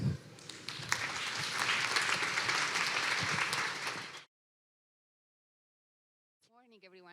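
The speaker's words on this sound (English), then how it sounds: "Please give her a warm round of applause." A conference audience claps to welcome a speaker to the stage, a full, steady burst of applause lasting about four seconds before cutting to silence, followed by a voice starting to speak.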